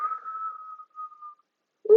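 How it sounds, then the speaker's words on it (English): A single steady whistle made by breathing out through the mouth, thin and clear for over a second before fading, followed by a short breathy sound. "Ooh, I made a whistle."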